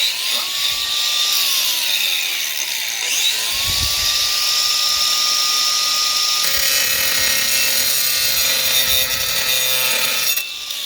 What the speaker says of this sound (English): We're just going to let the weight of the grinder cut into it.